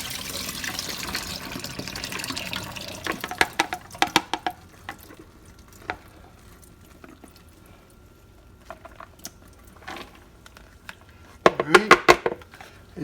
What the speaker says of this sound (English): We're going to pour them back into the strainer